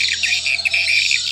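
Electronic swiftlet calls play steadily through a loudspeaker, a dense, high twittering loop, continuous for the whole moment.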